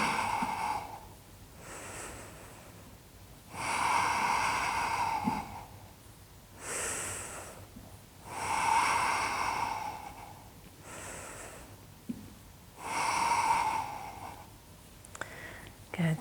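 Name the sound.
deep long breathing during chair yoga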